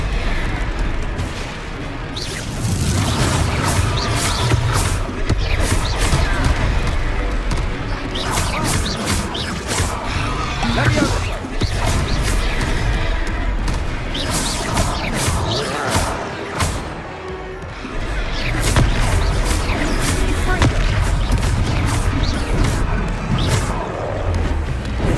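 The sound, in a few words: Confringo blasting spell explosions in the video game Hogwarts Legacy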